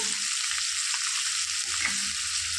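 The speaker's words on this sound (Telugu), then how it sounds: "వేయించుకోవాలండి ఎర్ర రంగు వచ్చేవారికి" Cumin, chopped green chillies and onions fry in a pan with a bright, steady hiss, broken now and then by faint stirring sounds, close by and without speech.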